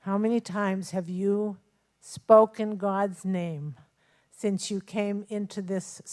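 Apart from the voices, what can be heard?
No everyday noises stand out.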